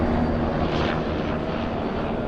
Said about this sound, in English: Not every day you got a jet ranger flying over your house on Thanksgiving.